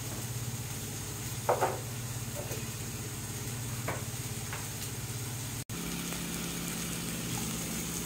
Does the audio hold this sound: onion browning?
yes